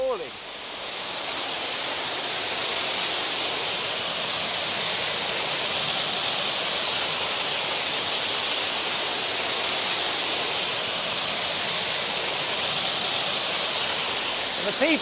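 Powerful water pours down a waterfall in a Mediterranean garden, a loud, unbroken roar that stays steady and close from start to finish.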